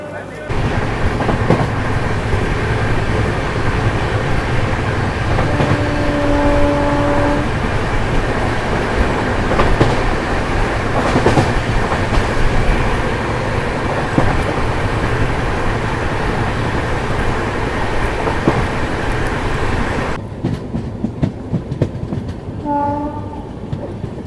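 Onboard passenger train No. 12089 rolls along the rails with a constant loud rumble and rattle, rhythmic wheel clatter and a couple of brief horn tones, heard from inside the coach.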